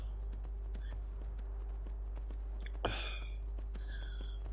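Horse hooves clip-clop at a steady riding pace in the Skyrim video game, soft and continuous beneath a constant low hum, with one brief louder burst near the middle.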